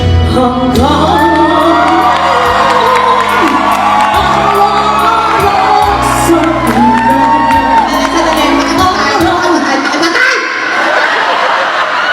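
A comedy-show audience shouts, whoops and laughs loudly and continuously, a dense crowd roar with voices and music-like tones mixed in.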